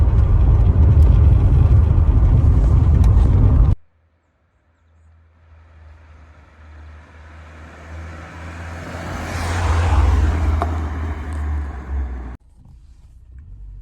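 A classic Ford Sierra on a test drive, its steady low engine rumble and road noise swelling into a louder pass around the middle before easing off, preceded by a brief louder stretch that cuts out.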